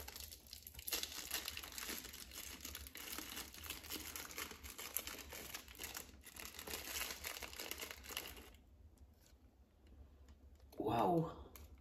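A package of shop products, including natural cones, being opened: crinkling and rustling of packaging and paper with small clicks, fairly close but quiet, ending in a brief louder tearing burst, with a voice talking at times.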